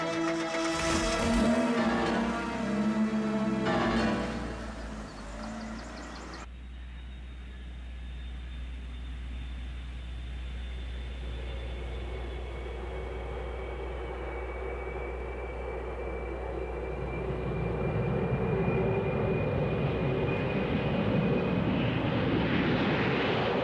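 Aircraft engine noise at an airport, a steady broadband roar with a thin whine that rises slowly, preceded by a brief burst of mixed clatter, continuing alone at moderate level.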